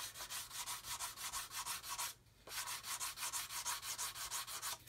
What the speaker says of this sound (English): notice I'm still using a 220 grit. I'm not using fine sticks or anything. I'm using my coarse sticks.